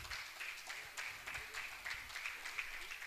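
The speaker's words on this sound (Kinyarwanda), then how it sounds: "Amashyi menshi kuri aba bavandimwe." Applause for a church worship team, a soft patter of clapping from the congregation that holds steady and fairly faint for a few seconds.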